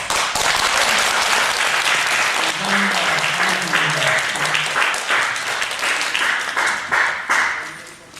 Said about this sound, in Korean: 우리 목사님 가정 박수 한번 합시다.